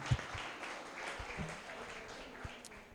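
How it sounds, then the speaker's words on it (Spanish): Church congregation applauding during a Spanish-language sermon, a steady wash of clapping with a few louder close claps standing out near the start. "Aleluya, aplauda a la mujer"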